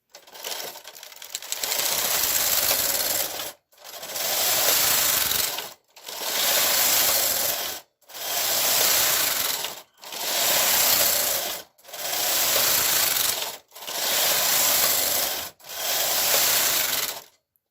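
A KH940 knitting machine carriage knits tuck lace for a scarf, sweeping back and forth in eight loud, even passes of mechanical whirring and rattling, each about two seconds long and separated by brief pauses.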